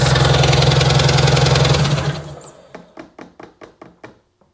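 A hard-starting Seadoo RFI 787 jet ski engine runs loud and close for about two seconds, then fades out and is followed by a string of evenly spaced, softer chugging pulses that taper away.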